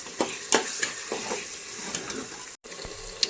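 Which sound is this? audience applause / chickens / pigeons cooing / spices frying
spices frying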